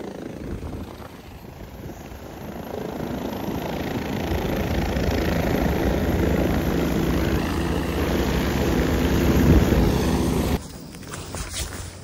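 Helicopter flying on the Kedarnath ride, a loud steady rotor and engine roar that fills most of the clip, then drops sharply near the end to a quieter cabin hum.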